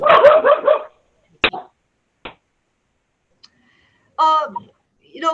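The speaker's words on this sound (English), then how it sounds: "dog is barking" A dog barks in a short burst at the start and then again near the end, among clicks and a person talking, heard during a remote school board meeting.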